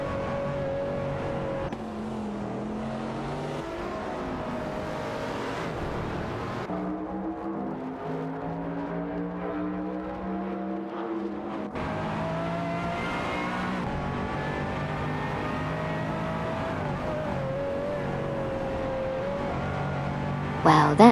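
Race cars overtake one another in an AI racing video game, their engines whining and rising and falling in pitch as they pass, layered at moderate volume and continuing steadily without speech.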